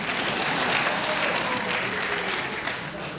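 A comedy club audience bursts into dense, sustained applause for a stand-up comedian, loud and even throughout with a sharp whoop or clap spike near the middle.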